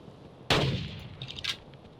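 A single sharp gunshot in the hunting game Carnivores, loud and sudden with a short echoing tail, followed by fainter clattering sounds.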